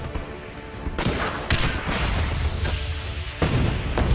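Heavy artillery and rocket launcher fire in the game Guns Up! sound as a string of booming blasts and sharp shots at irregular intervals over a rumbling battlefield bed, loud and close with no voices.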